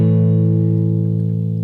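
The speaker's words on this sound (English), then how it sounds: "That's a power chord. It sounds like this." An electric guitar rings out a single power chord of root, fifth and octave, struck once and left to sustain loudly and cleanly with a slow, even decay.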